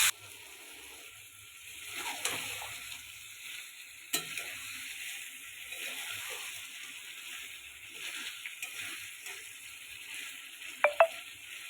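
Chicken pieces frying in hot oil with whole garam masala and bay leaf in a pan, a steady soft sizzle with occasional stirring scrapes and a couple of sharp clinks near the end, no talking.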